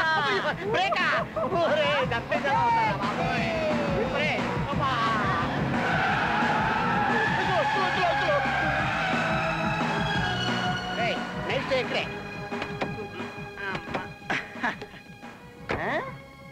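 A car brakes hard with tires skidding and screeching in a movie scene, a loud sustained squeal over engine noise and background chatter, fading toward the end.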